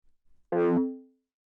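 A single short high-tech minimal synth stab, a bright chord hit that rings briefly and fades quickly into silence.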